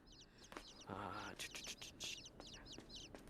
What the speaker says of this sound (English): Sorry, birds. I feel bad for these animals in the game.